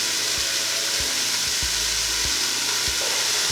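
Drained black beans and chickpeas sizzle steadily in a hot stir-fry pan alongside red cabbage, with soft knocks of the utensil against the pan every half second or so.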